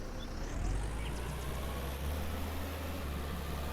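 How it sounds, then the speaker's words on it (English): A tractor pulling a cultivator reverses in the Farmer's Dynasty video game, its engine a low, steady idling rumble that runs continuously at moderate volume. "So I can back up the tractor with the cultivator"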